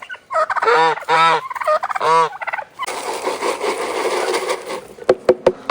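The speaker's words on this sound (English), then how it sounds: "That Goose, she's not quiet." A farm goose gives a few loud, close honking calls in quick succession, followed by a stretch of scraping, rustling noise and a couple of sharp knocks.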